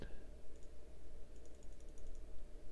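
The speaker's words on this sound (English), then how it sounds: "Come on, I'm clicking it." Computer mouse clicks while playing the strategy game Europa Universalis IV, a quick run of small light clicks over a steady low hum, faint and close, with no talking.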